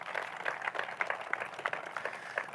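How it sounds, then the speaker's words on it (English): Moderate applause from a festival crowd, steady patter of clapping hands heard from a short distance, with no talking. "Please give them a round of applause also."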